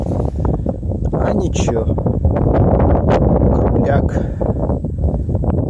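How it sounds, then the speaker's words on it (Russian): Strong wind buffets the microphone outdoors near an old castle, a constant low rumbling roar that runs loud under someone talking throughout. "Ветер у нас сильный."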